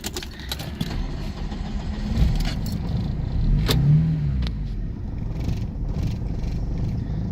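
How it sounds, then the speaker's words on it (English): A car engine rumbles loud and close, settling into a steady idle with a slight swell partway through; no one speaks. "Starts right up and idles good."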